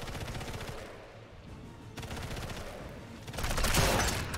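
Machine gun fire in Sniper Elite 5, rapid rattling bursts with a short gap in the middle and a louder, heavier final burst.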